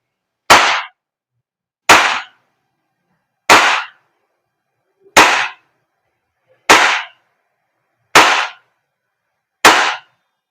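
Seven sharp shots from a WE P14 airsoft gas blowback pistol crack one at a time at an even pace, each followed by silence.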